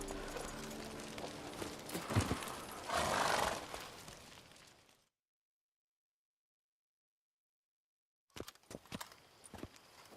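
A horse in The Witcher 3: Blood and Wine, heard as snorting and hoofbeats close by, then a few seconds of total silence before more sharp hoof clops return.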